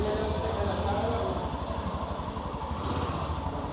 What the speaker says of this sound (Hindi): ग्लैमर एक्स का जो है टेस्ट ड्राइव ले रहे हैं और देखिए 125 सीसी का बाइक आगे बढ़ चुका है